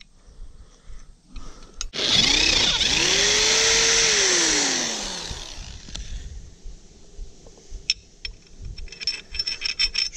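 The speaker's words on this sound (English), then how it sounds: "That's the one I need to drill out." A power drill bores out a hole on a hay dolly trailer, a loud whining grind that rises in pitch, holds for a few seconds, then drops away, followed by faint scraping and handling noises.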